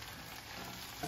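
Corn sautéing in a pan, a soft, steady sizzle and crackle with a faint hiss, close by and heard alone for a brief moment.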